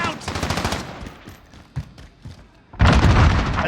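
Gunfire and an explosion in Call of Duty Modern Warfare multiplayer: a rapid burst of shots under game noise, a few isolated thumps, then a loud sustained blast of fire near the end.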